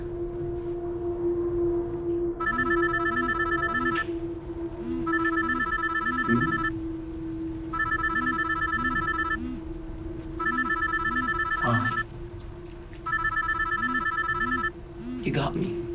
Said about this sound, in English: Why is Mama T's number ringing in your bag?